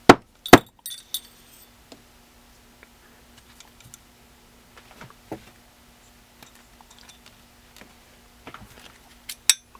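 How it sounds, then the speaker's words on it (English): Small metal parts click and clink while a firing pin retainer pin is removed from a .308 bolt carrier. A few sharp ticks come at the start, then sparse light taps and tinkles follow, close by and with no talk. "Pull out the firing pin retainer pin."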